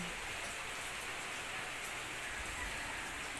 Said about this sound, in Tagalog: umuulan pa naman sa labas, guys. Lakas ng ulan.